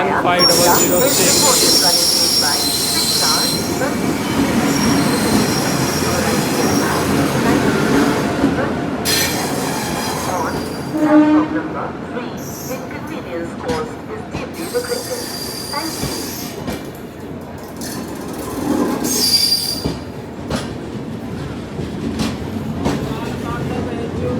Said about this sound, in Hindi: तो फाइनली गाइस हम लोग का ट्रेन आ चुकी है।